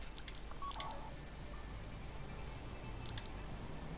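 Phone keypad beeps while dialing 911 in a video game, a few short tones over a steady faint background hiss.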